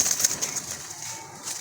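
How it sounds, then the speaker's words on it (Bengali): A single pigeon coos in a short, soft, repeated rhythm, close by, with faint ambient noise around it. "খুব ভালো মানের ডাকে কবুতরটা"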